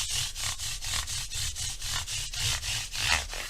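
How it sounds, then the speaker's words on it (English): 180 grit sandpaper rubs over the frets of a Gibson Les Paul Studio in quick, even back-and-forth strokes, a close, rhythmic scratchy rasp. "run 180 grit sandpaper on top of your nickel or chrome pickup, or even an open coil."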